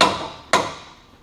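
Two sharp metallic hammer blows strike a suspension lift kit part on a 2004 Ford Expedition, each a loud close crack that rings briefly and decays, half a second apart.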